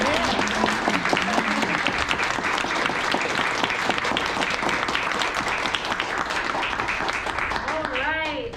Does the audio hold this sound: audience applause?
yes